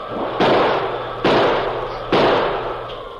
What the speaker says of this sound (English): he pulled the heavy 6-gun from under his mackinaw and began firing.